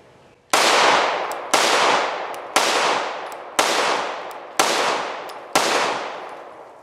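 A Shadow Systems CR920P compact pistol with a compensator fires six loud, sharp shots at a steady pace about one second apart, each shot ringing out with a long, fading echo.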